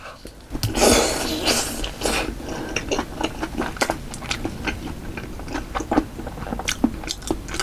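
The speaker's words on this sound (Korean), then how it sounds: "피클을 먹어볼게요" Crisp, crunchy bites into a pickle served alongside pizza, followed by steady close-up wet chewing with sharp clicks and crunches throughout, no talking.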